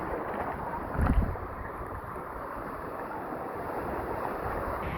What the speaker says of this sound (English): That's the waterfall right there, but we can't go right up to it. The current is so strong.